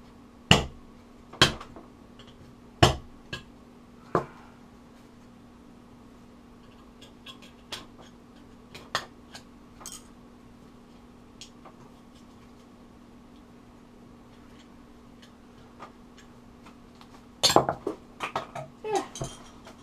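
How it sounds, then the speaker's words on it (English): A cheap 25-cent knife works through a metal can in sharp, separate scraping clicks and metallic pops, a few spaced strokes early on and a quick cluster near the end, close and clear over a quiet background. "when you use a knife to cut through a can, work the back way"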